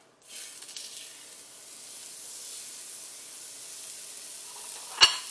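Meat searing in a hot, smoky pan gives a steady, close sizzling hiss that starts abruptly and holds throughout, with a brief sharp clatter near the end.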